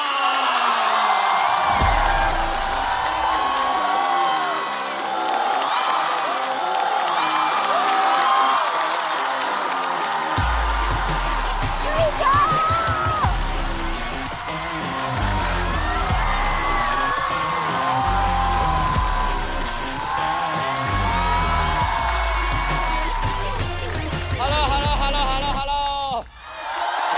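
A stand-up comedy show's studio audience cheers, whoops and claps in a loud, continuous roar that stays full throughout, with music playing underneath.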